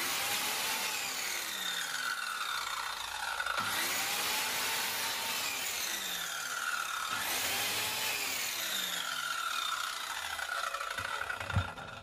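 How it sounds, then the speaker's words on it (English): A circular saw cuts through wood in three long, loud whining passes, each slowing in pitch as the blade bites, while a vacuum cleaner switched on with the saw roars steadily underneath. "the noise of the circular saw will be too loud to hear the vacuum"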